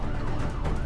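An ambulance siren sounds at Nigambodh Ghat, Delhi's largest crematorium, during the Covid surge. It comes as a short, steady wash of noise with no talk.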